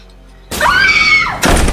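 A woman lets out a single loud, sustained scream in a room, a sharp rising-then-falling shriek of about a second, cut off by a sudden burst of noise.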